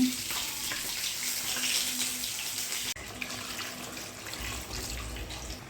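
A continuous stream of water pours and splashes into a pot of rice for chicken majboos, steady and nearby, with a brief break partway before the flow resumes.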